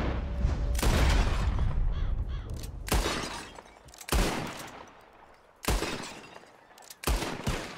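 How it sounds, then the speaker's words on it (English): Revolver shots at bottles in Red Dead Redemption 2 ring out as about five loud, separate bangs spaced a second or two apart, each with a ringing decay. "Whoever shoots more of these bottles wins."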